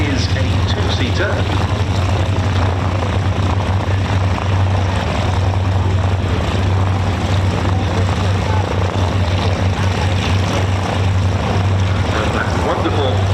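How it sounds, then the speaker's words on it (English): A Yakovlev Yak-3 UTI fitted with a Pratt & Whitney radial engine drones steadily and loudly at an airshow, its deep throbbing propeller note sustained throughout with commentary talk over it. "Wonderful engine note of the Pratt & Whitney radial heralding the arrival out in front of us of the Yakovlev Yak 3 UTI PW."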